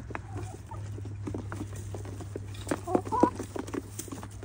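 Soft clucking from chickens rises briefly amid a steady low hum and scattered rustling, with a couple of sharper calls near the end.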